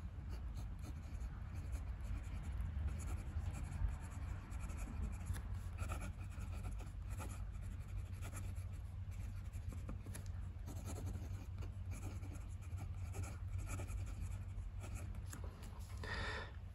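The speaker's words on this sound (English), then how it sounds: "So you can hear this is not the smoothest nib. It's definitely, definitely not scratchy." Faber-Castell Neo Slim black fountain pen with a blue ink cartridge writing on paper, a quiet continuous scratchy stroking sound with light rhythmic pulses, close and faint over a low steady background hum.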